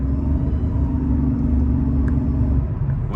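A 2006 Mercedes CL600 with a suspected transmission fault accelerates, a loud, steady engine rumble with a sustained whining tone riding above it, heard from inside the car.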